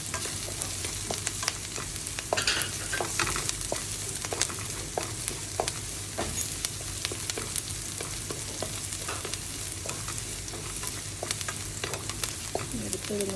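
Green chilli tipped into chopped onion frying in a pan for vegetable fried rice, a steady close sizzle broken by sharp scraping and stirring clicks throughout, with no talk.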